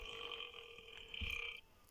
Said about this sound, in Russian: Фу, кто рыгнул?